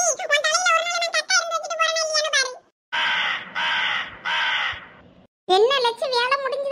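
A crow caws three times in harsh, evenly spaced bursts, loud and close, between stretches of animated cartoon voices in a village setting.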